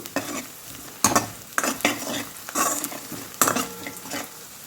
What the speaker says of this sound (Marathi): अर्धा चमच हळदी हळदी आपण फ्राय करून घेऊ